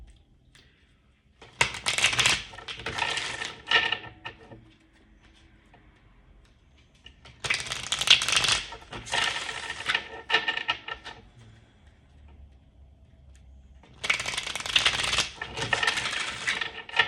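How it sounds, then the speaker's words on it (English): Tarot cards are shuffled by hand in three bursts of rapid riffling and flicking, close and crisp, separated by quiet pauses. "let's go ahead and get some more cards out here"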